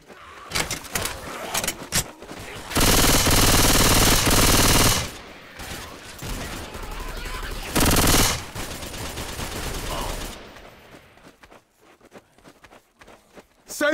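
Gunfire in Left 4 Dead 2 during a custom campaign with eight survivors: scattered shots give way to two long, loud bursts of sustained automatic fire separated by quieter rattling, then the shooting fades out.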